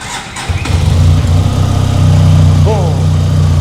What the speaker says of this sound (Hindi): ओह, ये तो एकदम मक्खन की तरह स्टार्ट हुई है